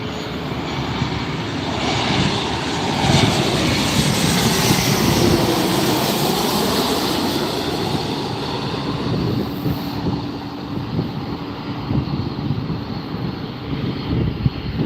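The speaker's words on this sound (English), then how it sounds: "going to be a Boeing 737 because that's what Southwest Fleet is" A Southwest Airlines Boeing 737 lands at LAX after a short flight from San Francisco, its engines producing a loud, steady roar that swells and lingers for the whole stretch, with no voices over it.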